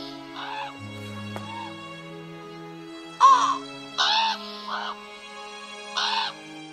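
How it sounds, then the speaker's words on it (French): A crow caws several times in short, harsh bursts, fairly close, over a soft background tone. "Il ouvrit son bec en graillant orgueilleusement"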